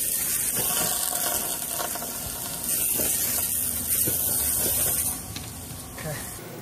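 Water sprayed onto a hot, greasy 4-inch narrowed front beam of a VW Bus sets off a loud, steady hissing sizzle that runs for about five seconds, then drops to a softer hiss.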